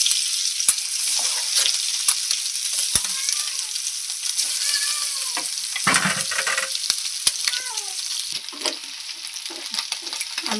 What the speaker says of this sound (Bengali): সিদ্ধ করে কেটে রাখা ডিমগুলোকে ভালো করে ভাজতে লাগবে